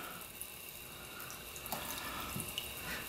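Water bubbles up through a drilled rock in a garden water feature, a faint, steady gurgling trickle with small splashes and drips, with no talking.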